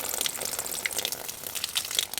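Water pumped from a tank by a battery-powered pump on a homestead for watering cows gushes and splashes steadily up close, with scattered bright droplet spatters throughout.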